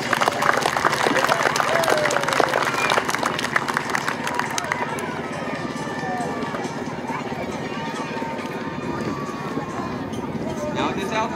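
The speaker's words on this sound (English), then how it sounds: "Everybody give him a round of applause." An outdoor airshow crowd at Ocean City, New Jersey claps for a parachutist. Scattered, fairly loud clapping in the first few seconds thins into a faint, distant murmur with wind and open-air background noise.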